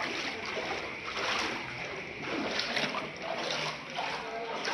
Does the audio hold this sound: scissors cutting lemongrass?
no